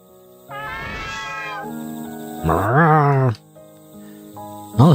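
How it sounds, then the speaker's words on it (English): Several cats meow in turn, with long drawn-out calls and a sharp yowl near the end, set against a steady game background hum. "What was that? A gathering of cats?"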